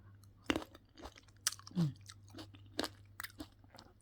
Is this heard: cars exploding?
no